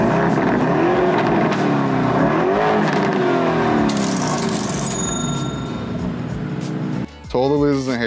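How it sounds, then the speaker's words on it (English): A Lamborghini engine roars loud and steady, its pitch rising and falling with revs, while people talk over the heavy mechanical drone. "Favorite part of owning a Lamborghini? It's gotta be the sound, right?"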